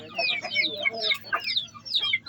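A young fighting rooster of a biting breed clucks and chirps in quick bursts, close and fairly loud, with short pauses between calls.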